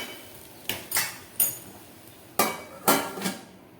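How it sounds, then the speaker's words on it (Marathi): A metal lid is set onto a pan of sabudana khichdi with potato, making a handful of sharp, close clinks and clatters in an uneven rhythm against a quiet background. "आता यावरती काय करू आपण झाकण ठेवूया"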